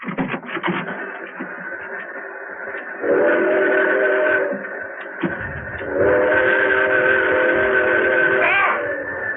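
A train rumbles loudly and steadily with a sustained whistle or horn blowing over it, swelling in two long surges.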